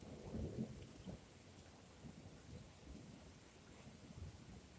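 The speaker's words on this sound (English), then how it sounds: "If anybody likes lightning storms or thunderstorms or any of those kind of things" A distant, faint thunderstorm gives a low rumble of thunder near the start, then soft steady rain and a light murmur continue with no voices.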